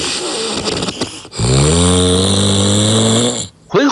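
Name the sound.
loud snoring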